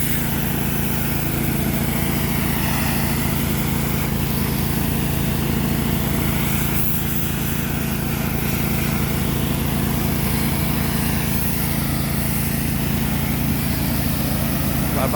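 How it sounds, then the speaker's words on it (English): Gas power washer running continuously while cleaning a black walnut log at a sawmill, a loud, steady engine drone with a constant high hiss of spray, no talking. "I like using a power washer."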